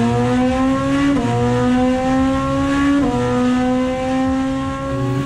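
Audi RS 5 DTM race car engine at full, loud rev under acceleration with sharp upshifts around one and three seconds, steady harmonic roar throughout, no talk.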